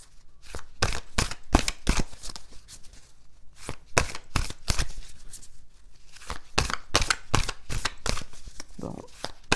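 A deck of tarot cards being shuffled and drawn, repeated crisp riffling bursts and flicks in an uneven rhythm, close and clear, with no talk.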